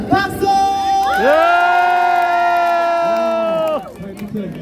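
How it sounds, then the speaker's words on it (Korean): A street busking crowd in Hongdae cheers and shouts together in one loud, sustained, rising whoop that holds for a few seconds and then stops abruptly, leaving quieter murmuring. "오늘 이 마냥 좀 한번 같이 소리 한번 질러주시면 감사합니다"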